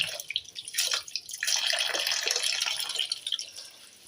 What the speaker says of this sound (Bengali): এই আলুগুলো ধোবো